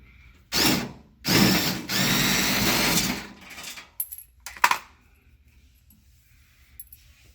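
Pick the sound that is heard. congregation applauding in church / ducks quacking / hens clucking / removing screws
removing screws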